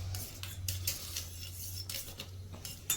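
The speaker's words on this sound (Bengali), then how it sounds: "এই 3টে সসকে আমি ভালো করে গুলিয়ে নেব।" A spoon stirs three sauces together in a bowl, giving quiet, repeated clinks and scrapes against the bowl in an uneven rhythm over a low background hum.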